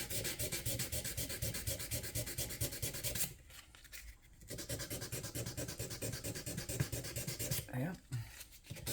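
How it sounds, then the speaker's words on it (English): Guitar fret wire on a refret job being sanded with sandpaper before polishing: steady rapid back-and-forth rasping strokes, close and continuous, with two short pauses partway through. "Those are easily sanded off as well to get them ready for the polishing."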